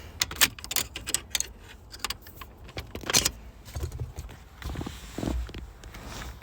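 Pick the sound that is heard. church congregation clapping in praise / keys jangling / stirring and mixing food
keys jangling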